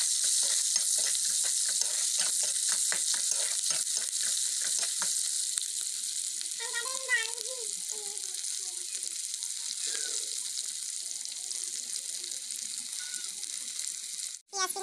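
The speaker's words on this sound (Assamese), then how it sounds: "সেইটো মই ল' ফ্লেমত অকণমান ৰংচোৱা হোৱাকৈ মই ভাজিম।" Chopped onions with bay leaf fry slowly over a low flame in a kadai, a constant close hiss of sizzling oil with early stirring taps and a brief clatter at the end, a voice briefly heard.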